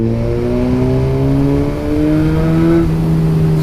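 A Suzuki GSX-R sports motorcycle engine revs up close, its pitch climbing smoothly and steadily, then easing off.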